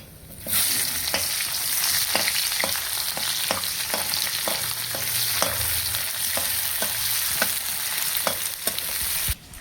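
Onion and whole spices such as cardamom and cinnamon fry in hot oil with a steady, loud sizzle, while regular scraping stir strokes punctuate it throughout; no one talks.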